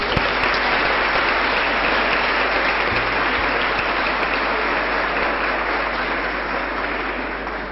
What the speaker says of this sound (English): the instinct is for everyone to give themselves an applause